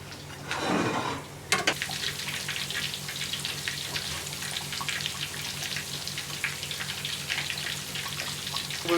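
Tonkatsu pork cutlets deep-frying in hot oil, a steady dense crackle and sizzle running throughout, with a louder burst of bubbling near the start as heat is raised.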